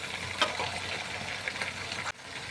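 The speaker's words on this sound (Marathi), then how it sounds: "आता आवळे आपण जरा परतून घेऊया" Amla (Indian gooseberries) sautéing in a pan for pickle: a steady, close sizzle and crackle runs throughout, with a brief stir or scrape near the start and a sudden drop in level near the end.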